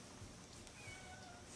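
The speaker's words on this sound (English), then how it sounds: "Oh, you can't meow and yawn at the same time." A house cat gives a faint, short meow that fades into a yawn, quiet and close against low background noise.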